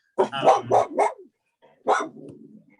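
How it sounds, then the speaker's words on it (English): A security dog barks close by: three quick loud barks in a row, a pause, then one more bark trailing into a low growl. "Good dog. Cute doggo."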